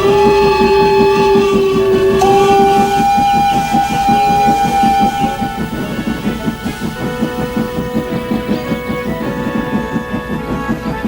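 Steam engines whistle loudly with sustained tonal blasts, then settle into a steady rhythmic chuffing as they pull away, close and prominent with no speech.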